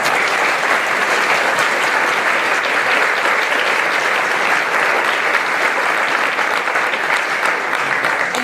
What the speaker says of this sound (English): And a big round of applause for them.